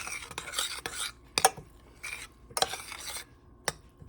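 A spoon stirs goji berries and chia seeds in a pot, giving a few separate scraping, clinking strokes with short quiet gaps between them, close and moderately soft.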